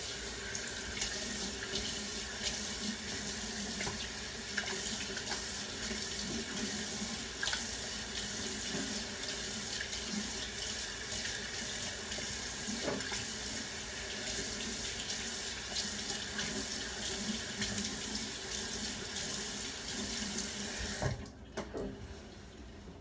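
A bathroom tap runs steadily while face scrub is washed off, a close continuous stream of water splashing into a sink for about twenty seconds before it is shut off.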